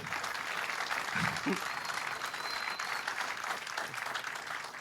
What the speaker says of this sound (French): Est-ce que vous pouvez applaudir mon ami?